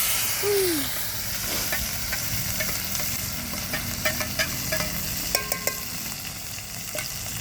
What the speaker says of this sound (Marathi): मसाला चांगला तळून घ्यायचा.